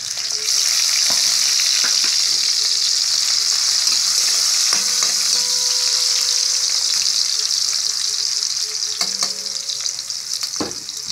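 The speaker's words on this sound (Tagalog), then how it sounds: "gigisa natin sa bawang. Tapos luya." Garlic and ginger sautéing in a pan, a loud continuous close sizzle with occasional clinks and scrapes of stirring throughout.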